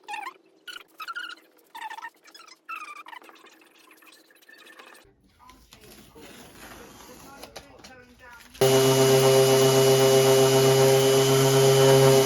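Power sander running steadily and loudly on a wooden built-in sideboard coated with sawdust and glue filler, starting abruptly after a stretch of talk and quieter shuffling.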